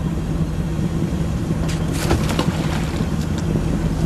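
Wakeboard boat engine running on open water, a steady loud drone mixed with wind buffeting and water rush, continuous throughout with no talking.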